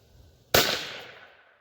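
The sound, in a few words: rifle shots firing Hornady 30 grain VMAX .22 WMR rounds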